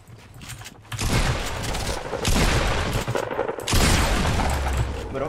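Rapid bursts of Fortnite gunfire crackle loudly in several dense volleys, close and harsh, with brief gaps between the rounds of shooting.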